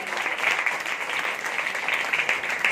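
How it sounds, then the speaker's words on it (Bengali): A church congregation breaking into dense, sustained applause, many hands clapping together loudly and evenly from start to finish. "জোরসে সেই বাবার জন্য একটা করতালি দিন।"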